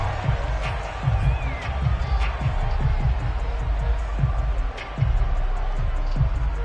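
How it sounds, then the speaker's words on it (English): A football stadium crowd murmurs and shouts during a replay challenge, a steady loud roar with scattered calls, while a commentator talks over it. "Plenty of shouts from this crowd as they watch the replay."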